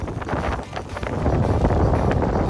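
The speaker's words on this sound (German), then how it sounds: "Ist ein bisschen windig" Steady gusty wind buffeting a microphone, a dense low roar that swells slightly, with no voices.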